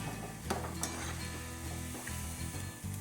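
Pakoda deep frying in hot oil until golden, a steady dense sizzle throughout with a couple of sharp clinks of a spoon or ladle against the pan early on, close and fairly loud, no talking.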